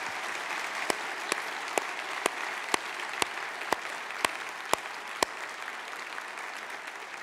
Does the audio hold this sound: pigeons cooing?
no